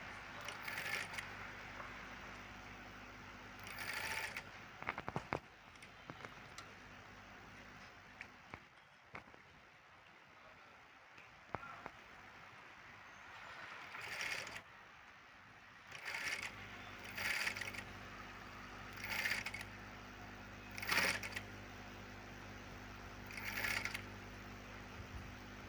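A sewing machine stitches down a folded fabric strip, sounding in short mechanical bursts that whir and clatter between quiet pauses. Most bursts fall in the second half, and the sound is near but fairly soft.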